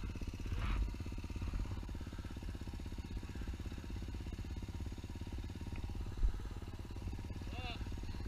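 Motorcycle engine lugging steadily in second gear while climbing loose, low-traction switchbacks in Colorado, a constant mid-pitched drone with little throttle change and a brief louder bump near the end.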